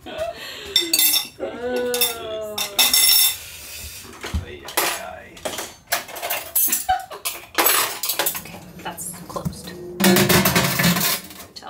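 Metal silverware clinks and rattles in bursts as it is loaded into a narrow rack of a compact dishwasher aboard a boat, with dishes knocking and brief pauses between handfuls.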